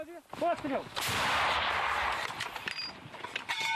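A British L-119 light howitzer fires near Bakhmut, a heavy blast booming and rolling out into a long, fading rumble, preceded by a short burst of voices.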